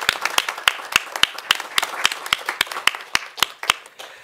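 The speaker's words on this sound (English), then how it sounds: "join me in a round of applause to thank everyone who brought this together" Audience at a Harvard Asia Center panel event applauds: sharp, fairly sparse hand claps from a small crowd, close and steady for several seconds with no talking over them.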